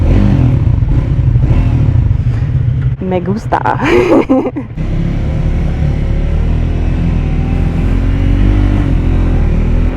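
Triumph Scrambler 400X motorcycle being ridden, its engine a steady loud rumble with wind noise throughout, a brief burst of clatter and a rider's voice in the middle.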